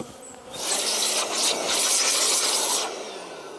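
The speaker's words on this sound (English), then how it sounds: "Oh, there's still loads of bees in this one." Honey bees swarm around hives during a spring honey harvest, a dense, loud, steady buzzing that swells and holds for a few seconds before easing slightly.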